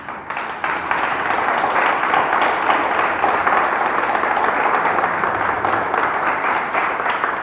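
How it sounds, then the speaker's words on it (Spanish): A church congregation applauds, a dense, steady wash of many hands clapping that starts suddenly and carries on loud and unbroken for several seconds. "Dale un fuerte aplauso al Señor."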